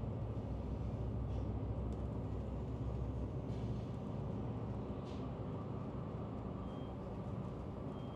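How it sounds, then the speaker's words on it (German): Steady low rumble and broadband hum inside a Finnish VR InterCity double-decker train cruising at about 140 km/h, a smooth, quiet ride noise with no voices. "Und der Zug ist angenehm leise."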